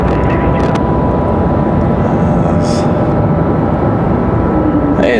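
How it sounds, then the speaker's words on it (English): A CRJ jet airliner departing Raleigh-Durham airport gives a loud, steady engine roar throughout, with a brief higher whine partway through. "Got a CRJ up for departure."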